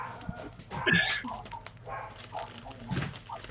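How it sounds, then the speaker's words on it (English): Several dogs bark and yip in excited bursts, some near and some farther off, with a few whimpers and scattered voices in the background. "Those are the dogs."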